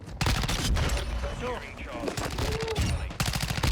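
Rapid bursts of automatic gunfire from a Chimera assault rifle in a Call of Duty-style multiplayer match, loud and close, with short pauses between volleys and a voice talking underneath.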